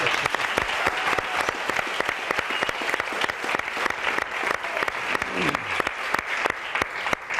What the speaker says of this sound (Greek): Ένα χειροκρότημα θέλω για την ορκέστρα